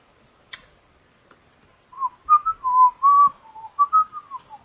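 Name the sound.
casual whistling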